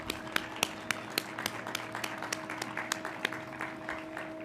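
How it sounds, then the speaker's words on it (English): Sparse, quiet clapping from supporters at an online graduation, distinct individual claps in an uneven rhythm over a steady background hum. "Can you please give them a round of applause for their support to you?"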